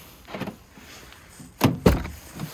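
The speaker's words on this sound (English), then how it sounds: "Yep, door's frozen." A frozen car door handle is pulled twice in quick succession, giving hard clunks as the stuck door fails to open in the cold.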